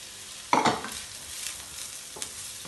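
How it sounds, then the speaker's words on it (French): Chopped onion hits a hot pan for a lasagne bolognese, with a sharp burst of sizzling and scraping as it is stirred, then softer frying and a second brief stir, close and clear. "Je remets l'oignon, l'oignon que j'avais coupé"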